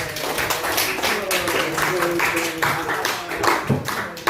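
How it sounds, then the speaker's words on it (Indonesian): Clapping from a group of hands in a classroom after a poetry reading, steady and continuous for several seconds, with voices murmuring underneath. "Beri tepuk tangan."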